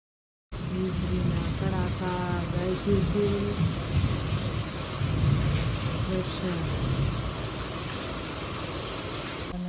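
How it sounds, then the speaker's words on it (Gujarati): Heavy rain roars steadily with low rumbling thunder underneath, and a voice is briefly heard near the start. "વરસાદ પણ જો ધોધમાર ચાલુ છે ગાજ વીજની સાથે"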